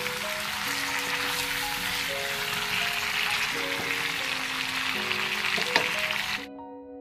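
Potatoes frying in a pan of chicken curry, a steady soft sizzle throughout with no talk, ending abruptly.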